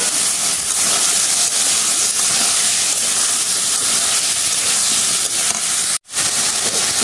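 Potatoes frying in a paste of ground ginger, garlic, cumin and coriander: a steady, loud sizzling hiss runs throughout, with one brief drop near the end as the pan is stirred or lifted, and no talking.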